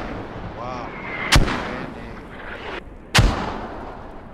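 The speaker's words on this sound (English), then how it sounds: "Shells inbound, 20 seconds." Artillery shells landing in the video game Squad, two loud sharp booms a couple of seconds apart, each followed by a rumbling decay over quieter background game sound.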